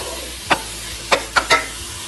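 Softened carrots and butter being stirred in a pot for gajrela, heard as four short, crisp scraping strokes with quiet gaps between them, close and alone with no talk.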